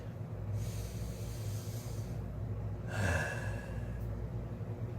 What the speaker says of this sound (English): All you gotta do is take a deep breath